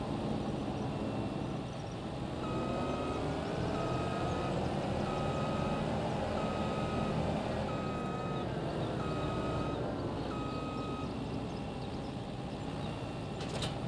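A farm vehicle backing up to park a header trailer, with a steady series of about eight evenly spaced reversing beeps over a constant diesel engine rumble in a farming game.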